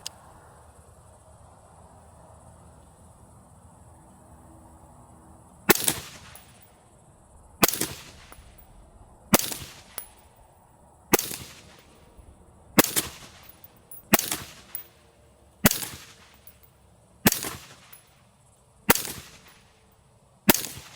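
Suppressed 6mm rifle fires through a 16-inch barrel fitted with a HAVIC suppressor, nine sharp cracks spaced about every two seconds, each followed by a short outdoor decay over quiet insect-like background, no talking.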